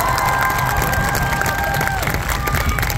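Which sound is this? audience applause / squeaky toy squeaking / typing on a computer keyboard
audience applause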